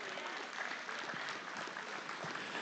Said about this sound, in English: Congratulate these kids, if you would, with a big round of applause.